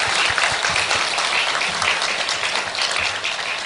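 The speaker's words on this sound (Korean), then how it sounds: "우리 두 분이 잠깐 박수 한번 쳐주시죠" A church congregation claps for two guests during a Sunday worship service, a dense, steady round of applause that fills the room without pause.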